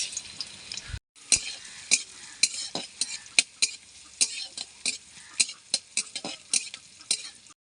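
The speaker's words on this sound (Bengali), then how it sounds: "কড়ার মধ্যে দিয়ে দিচ্ছি সর্ষের তেল গোটা জিরে কুচি করা পেঁয়াজ" Chopped onion and whole cumin sizzle in mustard oil in a kadai, a steady close fry punctuated by a regular series of sharp metal spatula scrapes and taps against the pan, with no talking.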